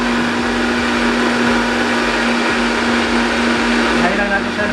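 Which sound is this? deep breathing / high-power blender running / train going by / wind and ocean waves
high-power blender running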